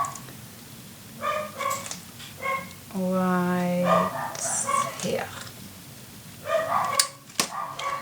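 Several dogs bark in short, loud bursts indoors, with a harmonic whine or howl in the middle and a person speaking briefly between the barks.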